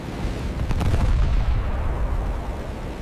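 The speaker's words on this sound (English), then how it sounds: "Anti-aircraft fire filled the sky with glowing tracers." Pearl Harbor attack anti-aircraft fire, a dense, heavy rumbling barrage with a cluster of rapid sharp reports early on, continuous and loud with no talking.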